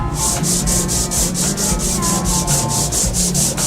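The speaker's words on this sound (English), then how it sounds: "And now we're sanding it back down again." Steady rhythmic sanding of a painted cabinet, a dozen or more even back-and-forth strokes of abrasive rubbing against a hard surface, loud and close with no talking.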